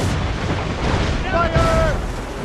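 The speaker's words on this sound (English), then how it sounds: "We should fire our mortars, Captain!" Ship mortars firing during a naval battle in Assassin's Creed Rogue, heard as a dense, continuous roar of booming blasts with a tonal whistle rising over it partway through.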